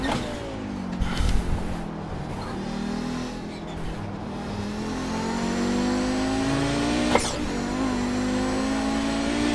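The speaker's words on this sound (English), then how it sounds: "I can almost go full throttle at one point once I feel the car planted" An Audi GTO race car in the iRacing sim at Road Atlanta, its engine loud and close, holding a steady high drone that climbs in pitch under throttle, with a brief gear-shift blip partway through.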